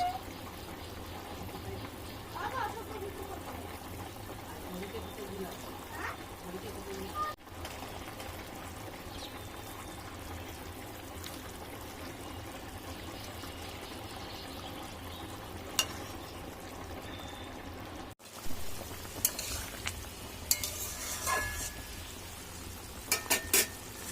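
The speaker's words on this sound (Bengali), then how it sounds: "ঝোলটা ফুটে গেছে এবার আমি দিয়ে দিচ্ছি এর মধ্যে মাছ" Rohu fish pieces go into a boiling fish curry gravy: a steady bubbling, sizzling simmer that runs throughout, followed near the end by louder splashes and clatter as the fish drops in.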